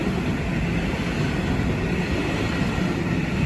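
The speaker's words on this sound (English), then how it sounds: "this is the 12:30 TfL rail service from Heathrow Terminal 5 to London Paddington. 345066." A TfL Rail electric train, unit 345066, rolls through Ealing Broadway station with a continuous close rumble and rail noise at steady loudness throughout.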